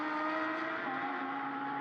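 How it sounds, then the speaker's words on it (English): A Lamborghini Huracán Evo 2 race car at the Mugello circuit, its engine a steady loud high-pitched drone holding for under two seconds with no speech over it. "It just looks and sounds so brilliant though, doesn't it, that Lamborghini?"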